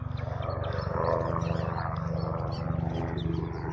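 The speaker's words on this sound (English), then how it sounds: "And a loud helicopter going over." A loud helicopter passes overhead in the countryside. Its steady, throbbing rotor drone with a rapid pulsing beat fills the whole stretch at constant strength, and no one speaks.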